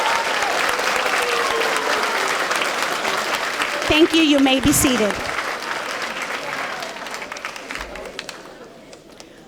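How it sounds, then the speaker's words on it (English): A school audience at an 8th grade moving-up celebration claps loudly for the students, a dense round of applause that tapers off, followed by a brief spoken line from the stage as the clapping fades. "So please let's give them a round of applause."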